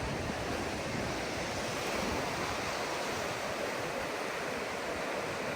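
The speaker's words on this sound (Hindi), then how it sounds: "बड़ी तेज़ी से लहरें साहिल की तरफ आ रही हैं जी।" Ocean waves rushing in toward the shore at North Berwick harbour in Scotland, a continuous broad roar of surf mixed with wind buffeting the microphone, steady and fairly strong, with no voices.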